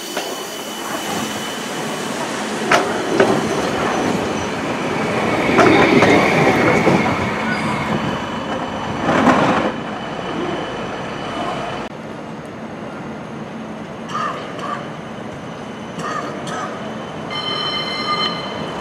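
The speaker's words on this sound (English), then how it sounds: "Here comes the next tram heading up down to New Street." A battery-equipped Birmingham tram heading toward New Street rolls along the street, a loud rumbling pass with metallic wheel squeals and clicks that fades into quieter street noise and brief high squeaks near the end.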